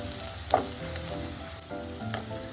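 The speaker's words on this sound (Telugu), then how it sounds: "బెండకాయ ఆయిల్లో ఫ్రై చేస్తున్నప్పుడు కొంచెం ఇట్లా జిగురుగా వస్తుంది." Okra frying in hot oil while being stirred gives a steady close sizzle, with a few louder scraping stirs breaking through.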